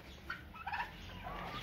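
Turkeys and chickens on a farm give faint clucking and gobbling calls in a brief, soft burst against low outdoor background noise, with no one talking.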